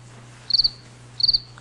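Cricket chirping: two short trilled bursts about half a second apart, bright and clear over a steady low hum, with no other sounds.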